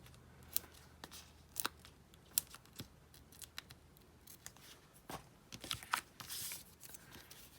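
Sharp, quiet snips of scissors trimming the edge of a paper strip for a pop-up gift card holder, irregular cuts with soft paper rustles between them.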